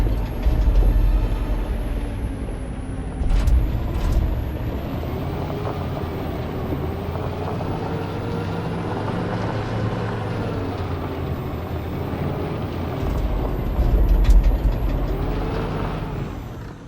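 Electric truck driving in the video game Detroit: Become Human, a steady low vehicle rumble and hum with brief air-brake-like hisses, continuous and fairly loud with no talking.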